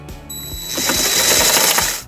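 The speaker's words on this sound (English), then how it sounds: "And then we'll tighten it using a 3/8 socket." On a 2011 Kia Sorento, a ratchet with a 3/8 socket tightens a bracket nut, giving off a quick run of close, metallic clicks under a faint whine and no speech.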